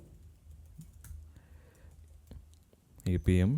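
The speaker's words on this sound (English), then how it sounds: "Now let me type this first command" Quiet keystrokes on a computer keyboard as a command is typed, soft irregular clicks close by, ending with someone speaking over them.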